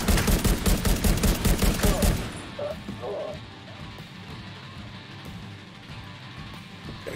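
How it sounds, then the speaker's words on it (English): Rapid burst of loud gunfire in the shooter game The Division 2, about two seconds of fast repeated shots, then a quieter stretch of game ambience with faint distant noises. "probably a stupid thing to shoot a shotgun at that kind of range"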